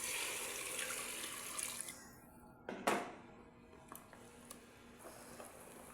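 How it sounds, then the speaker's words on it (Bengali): Water poured into a pot of braised camel meat, a soft splashing pour that swells into a brief rushing gush, followed by quieter sloshes and faint clinks, close and quiet. "মাংস কষানো শেষ আমি পানি দিয়ে দিলাম"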